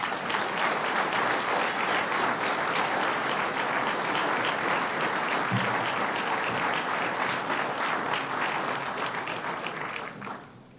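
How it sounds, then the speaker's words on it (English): Sustained applause from a large audience at an outdoor construction project announcement, steady and dense for about ten seconds before tapering off at the end. "give a big round of applause to Jimmy Cahill"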